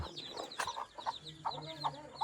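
A hen clucks repeatedly in short, rhythmic bursts close by, with a faint bit of background activity.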